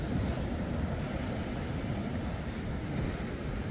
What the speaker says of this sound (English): Boat nicely on the plane, so the power is all there when he needs it